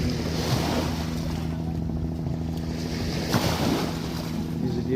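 Small waves on the Meghna river wash steadily around a boat, with a low continuous hum and light wind buffeting the microphone.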